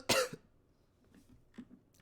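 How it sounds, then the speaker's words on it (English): A single sharp cough bursts out near the mic, followed by quiet room noise and a few faint murmurs. "Cough, cough."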